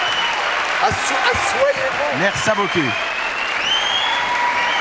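A studio audience at a French TV variety show applauds to welcome a guest, with broad steady clapping throughout while someone talks over it.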